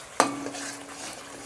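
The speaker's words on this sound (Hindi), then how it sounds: "अब इसको 2 मिनट तक ला भूंज लेंगे मसाला के साथ में, मसाला मिल जाएगा।" Masala paste with raw almonds roasting in a pan: one sharp clink of a spoon against the pan, then a soft steady sizzle with light scraping as the mixture is stirred.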